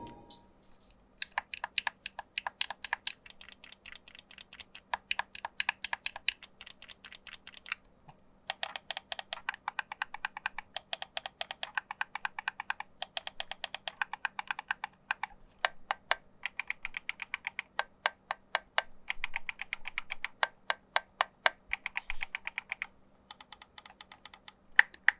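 Buttons on a Razer Wolverine V2 Pro game controller clicking in rapid, crisp mouse-like bursts, close and clear with a few short pauses, over a faint steady hum.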